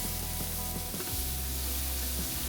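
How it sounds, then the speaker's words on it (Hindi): Onions frying in hot ghee with cloves, cinnamon, black peppercorns, green cardamom and cumin, a steady close sizzle with light stirring throughout. "थोड़ा सा फ्राई करने के बाद प्याज डाली"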